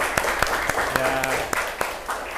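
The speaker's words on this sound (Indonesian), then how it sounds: "Oke, tepuk tangan buat kita semua." A classroom group claps in sharp, rhythmic beats, roughly evenly spaced, while voices carry on underneath throughout.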